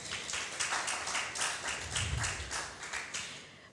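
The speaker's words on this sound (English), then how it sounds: "Can we just give a round of applause once again for them?" Applause from a church congregation for the worship team during a Sunday service, a steady patter of many hands clapping at moderate distance for a few seconds.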